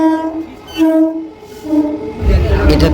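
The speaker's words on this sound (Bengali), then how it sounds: "এটা থ্রু ট্রেন, তাই দাঁড়ালো না, উঠতেও পারলাম না।" A through train passes a station without stopping, sounding long repeated horn blasts followed by the heavy, loud rumble of wagons rolling by close at hand.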